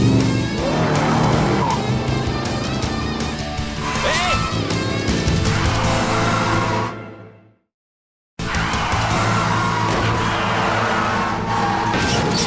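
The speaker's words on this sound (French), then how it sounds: "on nous signale une voiture de course qui brûle les feux rouges en ville" A race car tears through town in an animated cartoon, its engine roaring loud and close while tires squeal and skid, cut by a brief moment of dead silence before the roar resumes.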